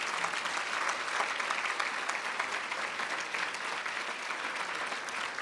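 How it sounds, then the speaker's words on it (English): A large crowd at a trauma gala applauding: loud, continuous, even clapping that fills the whole five seconds with no voices over it. "Give him a round of applause."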